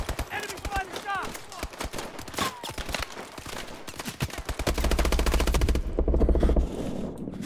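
Rapid bursts of automatic gunfire from enemies in the video game Call of Duty Advanced Warfare, dense rattling volleys with scattered single shots, loud and continuous, ending in a heavier rumbling stretch.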